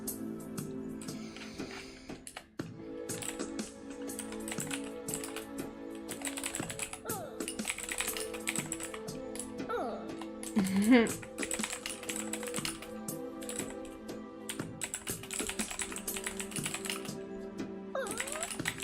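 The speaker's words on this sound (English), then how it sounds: "Sure, I started typing for 3 seconds." Rapid typing on a computer keyboard, close and fairly quiet, with irregular bursts of key clicks and brief pauses running through the whole stretch.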